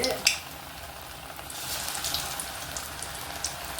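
Chilli bajji, battered green chillies, frying in hot oil, giving a steady soft sizzle and bubbling that stays fairly quiet throughout, with a brief clatter near the start.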